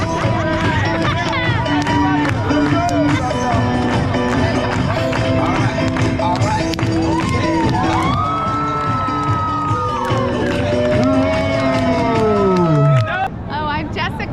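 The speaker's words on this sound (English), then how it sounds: "Everybody clap your hands." A big Times Square crowd claps along in a steady patter, mixed with loud music, cheering and general babble of many voices throughout.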